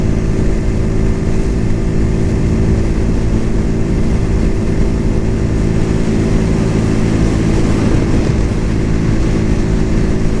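A Cougar Vitacci XMT 250 motorcycle hums steadily at cruising speed, its engine drone loud and continuous throughout beneath heavy wind rush, with no gear changes evident.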